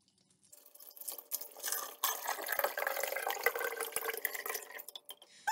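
Coconut water pours steadily into a blender holding turmeric and ginger, a continuous close splashing gush of liquid lasting several seconds with no talking.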